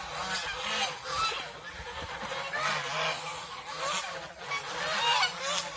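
Geese honk repeatedly in overlapping nasal calls, a flock close by on a goose farm, with a steady background murmur.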